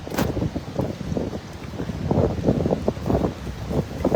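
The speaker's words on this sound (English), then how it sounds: "Oh my god, and it's so windy now." Strong wind on a rainy day in New York City gusts and rumbles hard against the microphone in uneven, buffeting bursts, with no talking.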